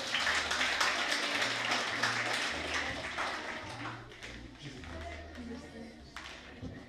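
Audience applause for a teacher at a recitation contest award ceremony in a community hall, a dense burst of clapping from many hands that gradually thins and fades out.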